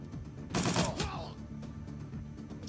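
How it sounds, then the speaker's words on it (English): Gunfire in the tactical RPG Shadowrun: Dragonfall, a single sharp shot burst followed by a quieter trailing crack, set over a low game music bed. "Reload and shoot again"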